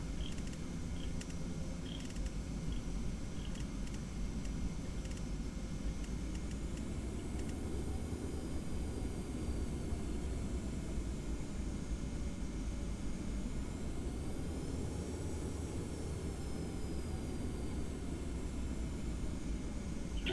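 Jet engines of a Boeing 717 in a flight simulator rumble and whine steadily through a takeoff roll, a constant low roar with a faint rising tone, moderately quiet and unbroken, with no voices.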